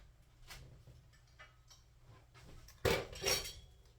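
A knife cuts slices from a pound cake, making quiet, close clinks and scrapes. A few faint taps are followed near the end by two sharper clicks of the blade against a plate or board, with no speech.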